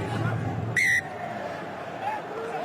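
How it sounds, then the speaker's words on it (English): A referee's whistle sounds once at a Top 14 rugby match between Stade Français and Castres Olympique, a single sharp, loud blast of about a quarter second over crowd murmur and commentary, followed by faint stadium noise. "Whistle blows."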